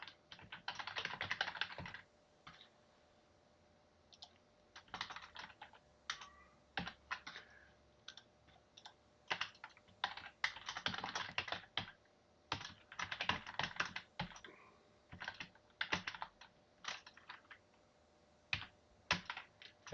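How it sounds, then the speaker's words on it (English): Someone types code on a computer keyboard in quiet irregular bursts of key clicks with short pauses, close and fairly faint. "I'm typing in the exact same thing I had before."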